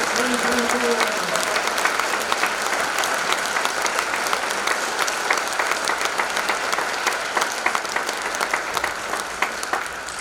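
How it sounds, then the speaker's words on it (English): Audience applause for a Pelican Rapids High School graduating class of 2024 at a spring band concert: dense, steady clapping from a full crowd that fills the room for about ten seconds, with brief voices at the very start. "how about a round of applause for the awesome Pelican Rapids High School class of 2024"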